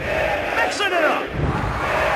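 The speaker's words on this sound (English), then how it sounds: "This crowd is going berserk!" A wrestling arena crowd in the PS1 game WWF Attitude roars and cheers in a steady, loud wash, with a rising shout near the middle.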